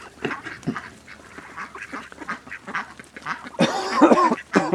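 Indian Runner ducks and mallards quack in scattered, overlapping calls, close by, with a louder cluster of quacking toward the end.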